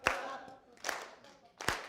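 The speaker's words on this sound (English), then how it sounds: "And then we clap again." Audience clapping in unison at the SF Peacemaker Awards: three separate sharp bursts of many hands striking together, each one fading quickly, with short quiet gaps between them.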